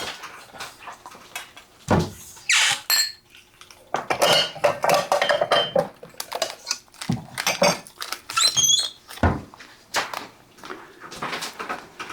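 Metal pots, pans and utensils clatter and clank in bursts in a home kitchen while a 2-cup measuring cup is fetched, loud and close with irregular rhythm and quiet gaps between the crashes.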